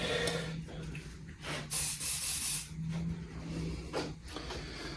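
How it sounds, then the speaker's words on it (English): Hairspray hisses from an aerosol can onto model railway vegetation on an N gauge layout, in several close, steady sprays broken by short pauses. "but I always used hairspray"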